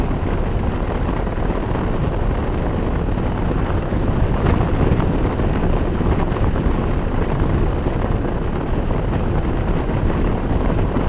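A 2018 Harley-Davidson Softail Heritage cruises at speed, its steady engine drone buried under constant, loud wind buffeting across the microphone.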